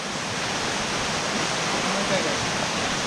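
A hidden waterfall in the Keonjhar forest of Odisha gives a steady, loud rushing roar of falling water that fills the whole clip without a break.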